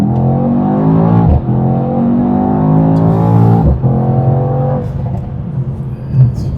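Mercedes-AMG E63s, a twin-turbo V8 in Sport Plus mode, pulls hard through rising revs with brief dips at gear changes, loud and close, with light crackles from the exhaust.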